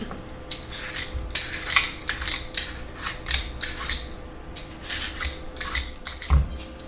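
Butternut squash being peeled with a peeler: a quick run of rasping, scraping strokes against the firm skin, close and fairly loud, in an uneven rhythm with no talk.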